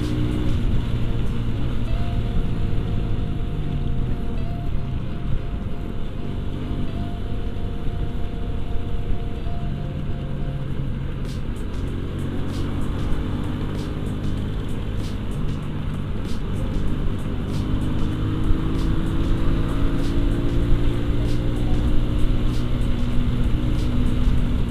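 A road vehicle pulls away and accelerates hard at full throttle on a daytime drive home in Jakarta. A continuous close engine rumble builds with rising tones in the second half, without talking.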